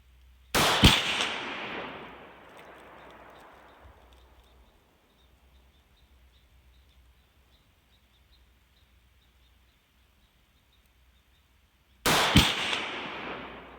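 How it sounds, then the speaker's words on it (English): Two loud, sharp rifle shots from a Ruger Mini 30 firing at a target, about eleven seconds apart, each followed by a long decaying echo across an outdoor range, no talking. "I'm gonna shoot at the end of the lettering at the bottom of the target on the right."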